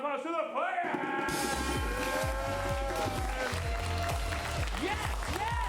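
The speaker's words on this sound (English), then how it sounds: "give a big warm round of applause to the players!" An improv comedy show audience applauds the players, with dense, steady clapping and crowd noise running throughout, mixed with loud music and voices over the top.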